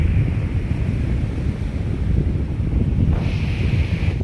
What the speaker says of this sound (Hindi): ठंडी ठंडी हवा चल रही है इस टाइम और तेज़ तरीके की